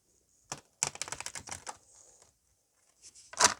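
Close riffle of a deck of cards being shuffled, a rapid burst of crisp flicking snaps followed by a pause and another short quick flurry, quiet with no talking.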